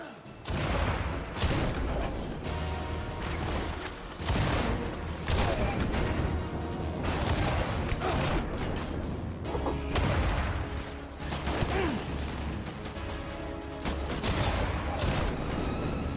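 Automatic turret fire in the video game Death Stranding rattles in rapid, loud bursts, repeated through the stretch with brief gaps, over a dense game soundscape with faint speech.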